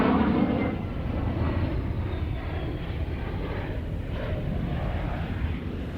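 An Alpha Jet drones steadily at an airshow, its jet roar loud and continuous as it simulates a carrier landing, with no voices over it.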